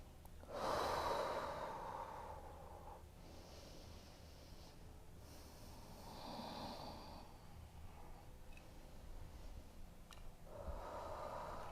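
Slow, audible breaths taken during a beginner yoga flow, two long exhales with soft airy texture near the listener, separated by quieter pauses over steady room hush.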